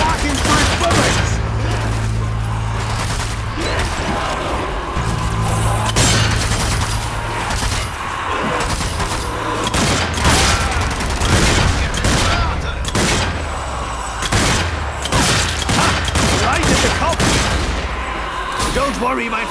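Dense, loud gunfire from the video game Zombie Army 4: Dead War, with rapid overlapping shots and bursts running unbroken through the whole stretch.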